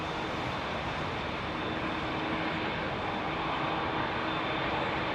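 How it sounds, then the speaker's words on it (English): A Virgin Boeing 787 climbs away from Heathrow on a departure, a steady broadband jet roar heard at a distance, continuous and even with no voices. "That was the Virgin 787 that just took to the sky"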